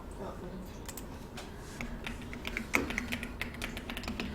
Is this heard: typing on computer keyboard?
yes